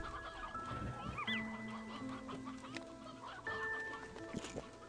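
Hens and roosters cluck on a ranch in the video game Slime Rancher 2, several soft irregular clucks mixed with chirpy tonal game sounds and light background ambience.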